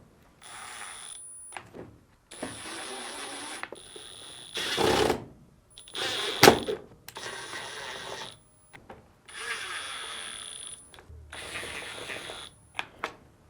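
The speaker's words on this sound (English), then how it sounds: "Then reinstall the 6 Phillips screws." A tool drives Phillips screws back into the rear cover panel of a Samsung washing machine, giving a series of steady, close whirring bursts with short gaps and a couple of sharp knocks.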